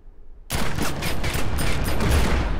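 Video game pistol fire from the elite skill Bullet Ballet bursts in abruptly after a short quiet moment, becoming a loud, dense, continuous stream of rapid shots that fills the rest of the moment.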